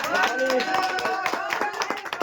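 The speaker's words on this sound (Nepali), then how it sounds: "ल ताली ताली सबले ताली" A group claps hands together at a gift exchange among sisters, with quick uneven claps mixed under lively voices for a couple of seconds.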